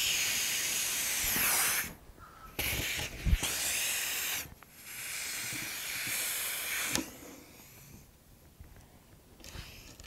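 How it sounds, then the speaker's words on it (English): Pneumatic air riveter pulling aluminum rivets, loud hissing air bursts in several separate pulls with short quiet gaps between them, no speech. "We will try it with the air riveter and see if the rivet falls apart on the stem."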